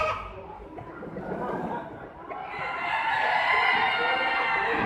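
Spangled hens and gamefowl at a fall poultry show, a hall full of clucking and chattering birds with crowing in the background, moderately loud, with people talking throughout.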